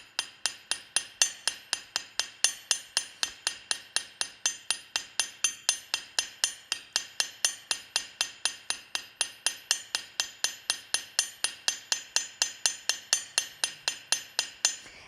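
Light, evenly spaced hammer taps on annealed bronze links during forging, a long steady run of sharp metallic clinks at a brisk rhythm, close and alone.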